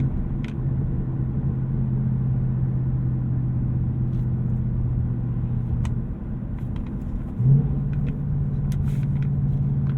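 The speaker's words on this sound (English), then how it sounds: "you can definitely tell some baffles opened up, because the thing's a little louder" A 2018 Ford Mustang GT Premium Performance Pack accelerates on the road with its exhaust baffles opening, giving a steady, loud engine drone and rumble heard from inside the car that shifts and swells slightly near the end.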